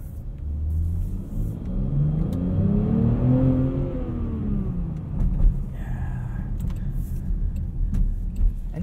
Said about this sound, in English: Engine sounds pretty nice in comfort mode.